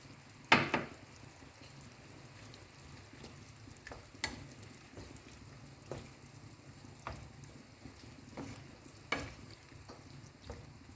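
Sardine sambal simmers in a pan, a faint bubbling with soft scattered pops and occasional louder clicks and stirring knocks, quiet and intermittent.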